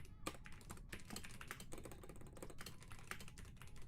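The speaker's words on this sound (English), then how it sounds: "Sorry, I'm typing." Rapid typing on a computer keyboard, dense irregular key clicks close up and fairly quiet, with no talk over it.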